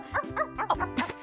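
A female dog whimpers and yips close by in a series of short, high, whiny cries, five or six in quick succession, with no talk over them.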